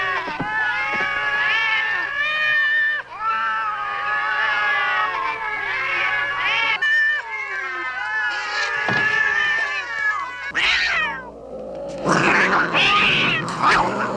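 Kittens in a movie meow repeatedly in high, plaintive cries, close and loud, one after another, with some caterwauling and a harsher burst near the end, under a soundtrack background.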